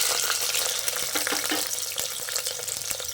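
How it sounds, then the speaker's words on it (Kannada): Onions dropped into hot oil for a pudina green mutton gravy, a loud steady sizzle with a few sharp crackles and stirring knocks, no speech. "ನೋಡಿ, ಈರುಳ್ಳಿ ಹಾಕೊಂತಿದ್ದೀನಿ."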